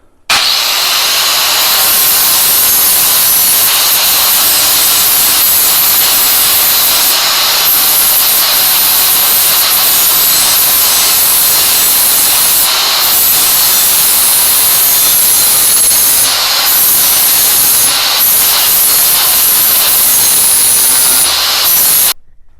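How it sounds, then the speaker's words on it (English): A Craftsman lawn mower blade is sharpened with a loud, continuous abrasive grinding hiss that runs almost unbroken for about twenty seconds, with brief dips and scraping changes as the blade shifts against the wheel. "All right, let's get that blade sharpened up."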